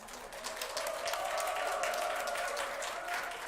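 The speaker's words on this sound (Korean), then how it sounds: "오실 때 큰 박수로 맞이하시기 바랍니다" A church congregation at a Sunday worship service breaks into sustained, even applause, many hands clapping steadily with no voices above it.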